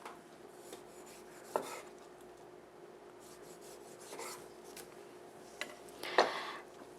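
Knife slicing green (unripe) tangerines for syrup, a few separate cuts and rasping scrapes spaced through a quiet kitchen, soft and close, with a sharper cluster of cuts near the end.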